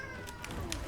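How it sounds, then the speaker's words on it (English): A cat meows at a scene where cats fight over the top of a tree, giving short cries in the middle of the clip amid background noise, with a voice faintly present. "Oh, I'm sorry about the cat."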